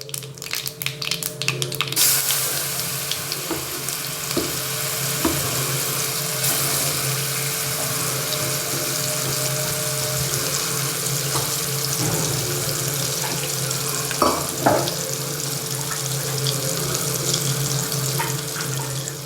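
Mustard seeds and a ground chili garlic paste fry in a pan for a spicy chutney. A steady sizzling hiss carries scattered small pops and crackles, with no talking.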